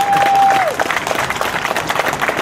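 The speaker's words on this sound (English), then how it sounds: "I've never heard clapping for a lawyer" A crowd at a religious freedom rally in Dayton claps steadily, fairly loud and dense, with a short whistle-like tone at the start and some murmuring voices underneath.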